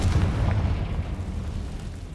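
A fiery Confringo spell explosion in Hogwarts Legacy lands as a deep, rumbling boom that rolls on and slowly fades over a couple of seconds, with no talking over it.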